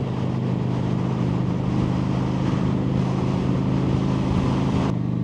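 A Kawasaki Vulcan 900 motorcycle engine accelerates with a deep, steady, throbbing rumble heard close up, mixed with rushing wind noise throughout and a brief drop near the end.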